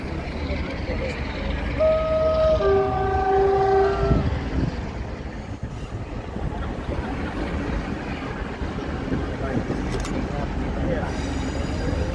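A train rumbles through Cardiff Central station, its horn sounding in sustained tones early on over a heavy continuous roar. Nearby onlookers chat over the passing noise.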